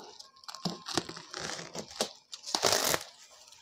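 Cardboard packaging from a Hasston Art. 3085-001 cut-off saw being torn and handled, with close crinkling, tearing and rustling in irregular bursts, fairly loud and alone without speech.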